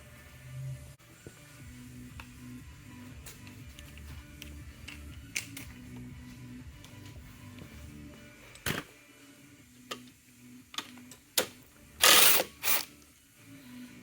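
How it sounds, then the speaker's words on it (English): Bolt being worked out of Tecate 4 T4 engine cases with a ratchet, rapid clicking pawl ticks in short bursts, then sharper metallic clanks and knocks near the end, close and fairly quiet. "The last thing we're going to do on this side is take this bolt out."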